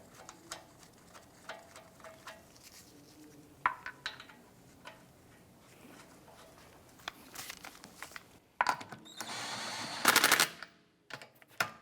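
A pneumatic impact tool snugs the lug nuts onto a wheel of a 2004-2008 Acura TL, heard as short rattling bursts amid clinks and handling noise, ending with a louder sustained hammering run.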